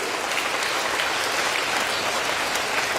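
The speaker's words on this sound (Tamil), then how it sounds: "இந்த கைதட்டு பத்தாதுன்னு நினைக்கிறேன் உங்க அம்மாக்கு" Audience applause at a Tamil speech event, a dense, steady clapping from a large crowd filling the whole stretch with no voices over it.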